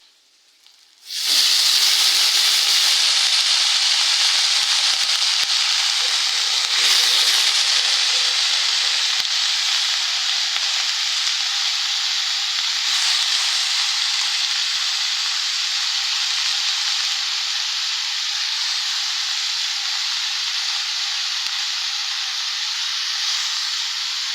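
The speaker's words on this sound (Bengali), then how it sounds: "আমি আজকে কাঁচামরিচ দিয়ে মূলা ভাজিটা করব" Radish stir-fry with green chilies hits a hot pan with a loud burst of sizzling, then settles into a steady, close hiss of frying that fills the whole stretch without any talking.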